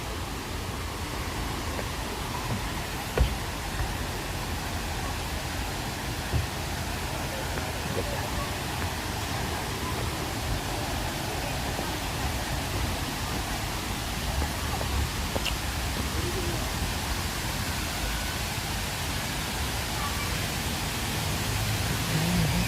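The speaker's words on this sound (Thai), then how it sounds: "เป็นน้ำตกหินปูน ขนาด มีชั้นน้ำตกทั้งหมด 4 ชั้นนะ" Steady broadband rush of a four-tiered limestone waterfall, Kroeng Krawia, constant and enveloping with no pauses, heard from close by.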